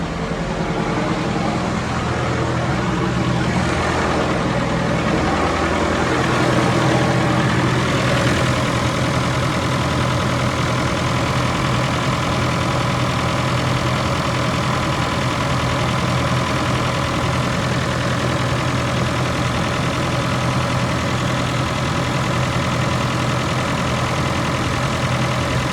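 A Massey Ferguson 698 tractor engine idles steadily at close range during a power steering ram rebuild, a loud, constant low diesel rumble with a slight knock that holds unchanged throughout, no voices.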